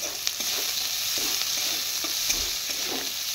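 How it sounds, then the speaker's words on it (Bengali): Chopped onion and slit green chillies frying lightly in hot oil make an even, close sizzle broken by soft, irregular stirring scrapes, with no talking. "তো পেঁয়াজটাকে হালকা ভেজে নিচ্ছি আমি।"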